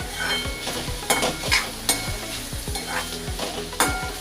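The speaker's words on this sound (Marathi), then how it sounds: "आणि आता मी त्यामध्ये 4 लाल सुकी मिरची तोडून टाकणार आहे आणि त्याला पण आपल्याला व्यवस्थित मिक्स करून घ्यायचं आहे" Dried red chillies broken into a thick gravy for restaurant-style paneer are stirred around a pan, a spoon scraping in steady repeated strokes over a continuous close sizzle, with no talking.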